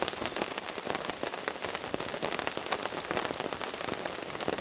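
Rain falling on a campsite tarp during storm camping, a dense, even patter of drops close by, moderately loud and without any talking.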